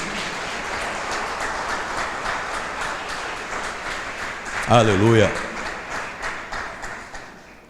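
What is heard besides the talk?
congregation applauding in church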